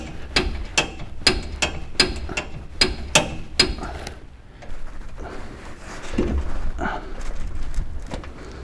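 A ratchet wrench tightens a bolt during rally car prep, giving a run of about nine sharp, evenly spaced clicks that then stop, followed by softer handling noise and quiet talk.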